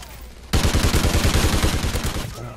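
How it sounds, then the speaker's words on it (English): The Ripper gun in a video game fires a rapid, loud automatic burst of about two seconds, dense rattling shots close up, ending abruptly. "I'm using the new Ripper gun, which is actually pretty awesome."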